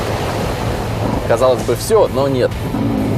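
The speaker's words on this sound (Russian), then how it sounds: "Это не я, это звук подвески такой." Steady mechanical rumble and clatter of a tracked Renault Duster's suspension, converted with tracks and a diesel engine, runs throughout, with someone talking briefly over it midway.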